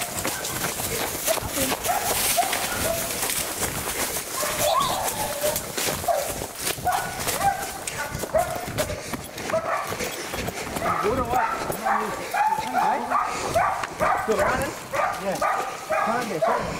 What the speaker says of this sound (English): Wasn't long till the dogs were off.